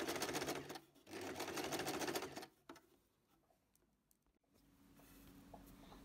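A sewing machine stitches the hem of a net curtain in two short, close runs of busy whirring, then goes quiet apart from faint handling noise.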